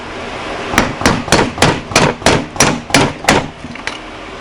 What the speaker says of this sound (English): We'll give it some friendly taps with a wooden hammer